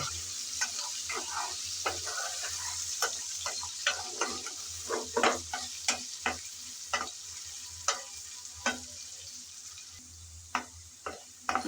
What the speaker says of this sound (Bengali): লবণ আর হলুদ দিয়ে ভালো করে নেড়ে চেড়ে বেজে নিতে হবে